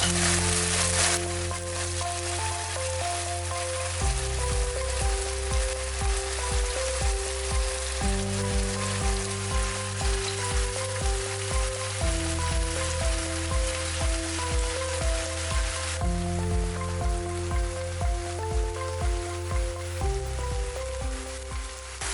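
Fish sizzles and fries steadily in a pan of onion-tomato masala, a continuous hiss that runs under loud background music throughout.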